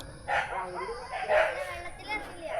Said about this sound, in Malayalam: പട്ടി ഓടിക്കാൻ വന്നാ